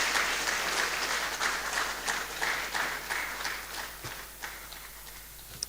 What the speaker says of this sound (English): can we give another round of applause to our speaker?